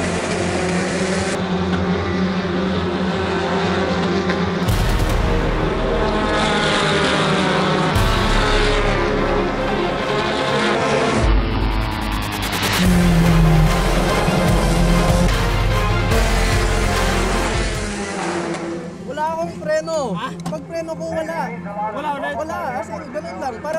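Formula 4 race cars drone and whine at racing speed, with engines shifting pitch as they pass, layered under crowd chatter and background talk.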